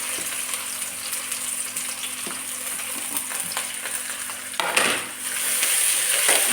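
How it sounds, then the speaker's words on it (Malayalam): Sliced onions, green chillies and curry leaves sizzle steadily in hot oil for a home-style chicken curry, with stirring scrapes throughout and a louder burst of clatter and hissing near the end. "അപ്പോൾ സവോള അത് ഇട്ട് കൊടുക്കണേ. പിന്നെ പച്ചമുളകും കറിവേപ്പില എല്ലാം കൂടി ഇട്ട് കൊടുക്കാം."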